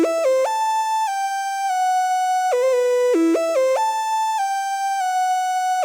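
Wild lead synth built in Serum for an FL Studio remake of a song: a loud, buzzy sustained tone that leaps and slides between pitches with quick bent notes and wobbles, playing alone.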